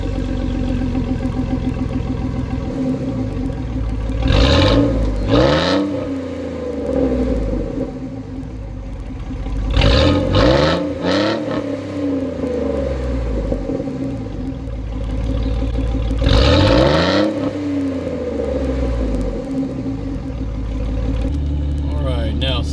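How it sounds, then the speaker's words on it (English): A 2004 Chevrolet Silverado pickup's exhaust drones steadily from inside the cab while driving, swelling in a few passes of louder rumble between calmer stretches. "Even in here, the exhaust note it's there, but it's still pretty docile in here."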